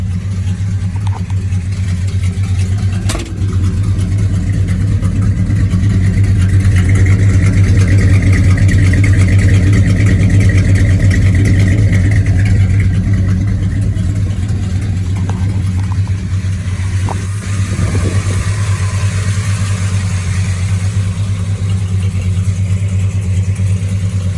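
A 1969 Mopar Roadrunner B-body engine idles steadily just after a cold start, a loud, even low rumble running throughout with slight swells and no voices.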